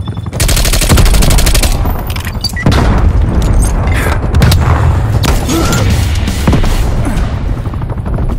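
Multiplayer Call of Duty: Black Ops Cold War team deathmatch firefight, a loud C4 charge detonating amid continuous heavy gunfire and booming blasts, dense and close.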